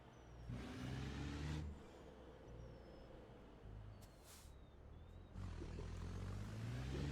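A heavy truck engine in American Truck Simulator drones as a steady low rumble, its revs rising and falling, with a sharp hiss of air brakes near the start and again midway.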